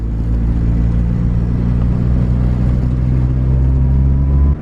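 A Honda B18C Type R engine swapped into a CRX runs at a steady, loud, close drone with a deep rumble and a constant mid-pitched whir, holding level throughout.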